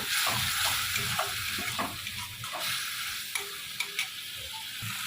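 Fish jhal masala with a splash of added water fries and bubbles in a pan while being stirred, a steady close sizzle broken by scraping strokes of the spoon.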